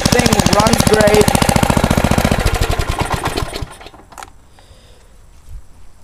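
A go-kart engine chugs loudly nearby with a rapid, pulsing knock for about three and a half seconds, then is cut off and dies away, leaving quiet background with faint movement.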